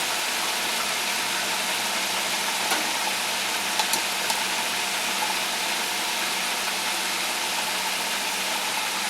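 Chicken fries in a pressure fryer with a loud, continuous broadband sizzle and hiss, a few faint clicks and pops from the valve cutting through, no voices.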